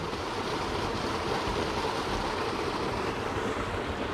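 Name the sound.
small spring streams of water flowing together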